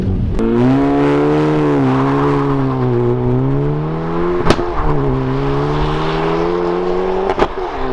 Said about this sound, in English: Loads of wheel spin, first, second, even some in third, but that was pretty rapid indeed.